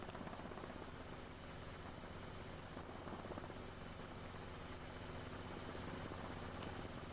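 Steady, dense whir of a helicopter heard from inside, constant rotor and engine noise with no pauses or voices.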